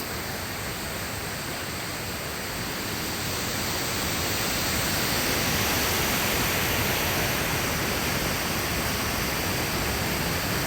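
Water pours through a raised lock gate at the Mallavaram dam project near Maddipadu, Ongole, making a loud, steady, broadband roar that swells slightly and holds throughout, with no voices.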